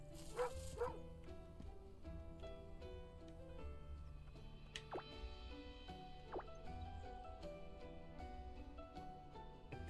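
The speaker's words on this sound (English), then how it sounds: "It's a dog." A dog barks in the video game Moonlighter: a few short, faint yips and barks over quiet background game sounds with soft dripping tones.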